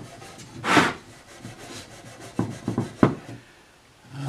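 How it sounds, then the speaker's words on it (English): Very fine steel wool rubs over the frets of a vintage Sakai/Audition electric guitar, producing close, soft scratchy strokes, one longer swipe followed by a cluster of quicker short rubs. "steel wool, very, very fine. I'm just going to rub the frets with it."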